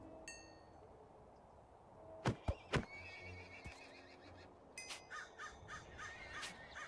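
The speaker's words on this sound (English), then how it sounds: "Yep, another horse." Minecraft horse in the Enigmatica 2 Expert modpack whinnying, with faint bird-like crows and several short sharp clops, heard as brief game sound effects over a quiet background.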